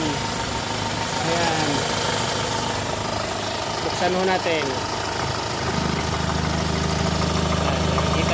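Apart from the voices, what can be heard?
car engine idling smoothly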